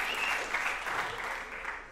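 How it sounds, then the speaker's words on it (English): A jazz ensemble concert audience claps for the bass clarinet, a steady, even wash of applause from a crowd held at moderate loudness throughout. "you can clap for the bass clarinet"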